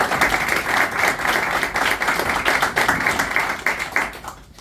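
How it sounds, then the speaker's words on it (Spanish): An audience in Valencia gives a speaker a round of applause at a book event, lively close-up clapping with uneven rhythmic bursts that carries on strongly and then tapers off near the end. "Un aplauso para nuestro chico."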